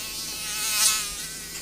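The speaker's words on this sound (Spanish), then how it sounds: "hay otro mosquito" A mosquito whines close by, a thin high buzz that swells as it passes nearest and then fades slightly, with no talk over it.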